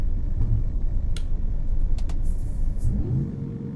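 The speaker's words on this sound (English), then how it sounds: "I just revved the shite out of the engine." A Mercedes-Benz Antos 1840 truck engine in American Truck Simulator is revved hard, giving a loud, close, low rumbling roar that builds and then drops into a lower idle near the end.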